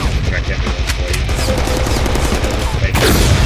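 Heavy gunfire from Cable's gun in the Deadpool video game, a loud, dense burst of rapid automatic shots and booms filling the scene, with voices mixed into the chaos.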